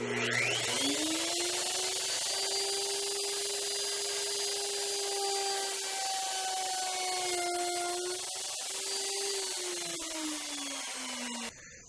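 Woodworking router whining steadily as it routes a wooden fretboard radius sanding block pass by pass, a loud, close motor tone whose pitch rises at the start, then dips and drifts throughout.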